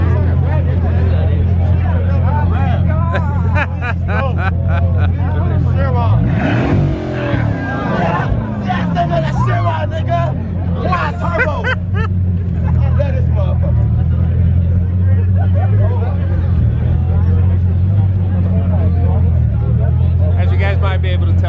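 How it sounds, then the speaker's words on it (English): A Bugatti Chiron supercar idles loudly at the Sunset GT car gathering with a deep steady engine drone and a brief rev, while a chattering crowd of onlookers talks over it throughout. "People go crazy over the Bugatti."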